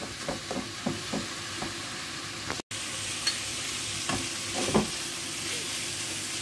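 Minced meat kofta sizzles and crackles in a pan, with a steady hiss broken by scattered scraping and stirring clicks and one brief dropout.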